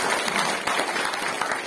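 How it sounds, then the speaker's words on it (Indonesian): A crowd at a welcoming event claps briefly together, a short burst of scattered applause with no voices over it. "tepuk tanganlah bagi kita semua"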